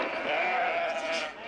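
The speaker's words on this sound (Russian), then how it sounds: "Гони лучше и ты своих овец сюда" A flock of sheep bleats continuously in a short, dense burst of overlapping cries, close and fairly loud, with no other sounds breaking through.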